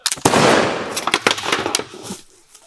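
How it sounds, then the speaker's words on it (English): A musket fired at armor: a loud sharp blast followed by a crackling, sputtering burst of pops that trails off over a couple of seconds. "So you're telling me if I take this gun and I shoot you dead in the chest"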